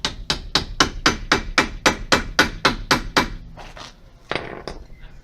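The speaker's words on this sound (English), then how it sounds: "So you will have to hammer it on first," Metal hammer blows driving an impact socket onto a heavily corroded wheel bolt on a Toyota Avensis 2.2 diesel during front disc and pad replacement: about twelve sharp, evenly spaced strikes up close, followed by a pause and a couple of lighter taps.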